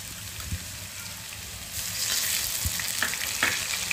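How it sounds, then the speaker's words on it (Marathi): Ginger, garlic and chili paste with turmeric and asafoetida sizzle steadily in a pan, growing louder partway through, with scattered knocks and scrapes of a spoon stirring and no talking. "आता हे सगळं आपल्याला छान परतून घ्यायचं।"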